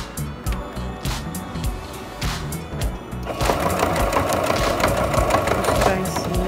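A sewing machine stitches fabric for a school pencil case, running in a steady mechanical chatter that speeds up and grows louder partway through, close by with no talk over it.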